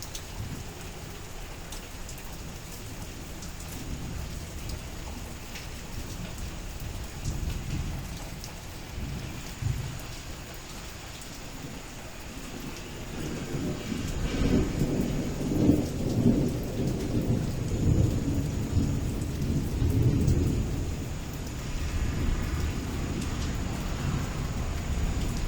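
Heavy rain pours steadily in Piauí, Brazil, with rolling thunder swelling into a loud, prolonged rumble midway before fading back under the constant downpour.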